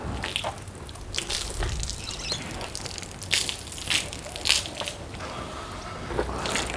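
A car being washed with Carpro Reset shampoo and water, with irregular wet splashes, drips and squishy wiping close by, some louder bursts rising out of the steady watery background.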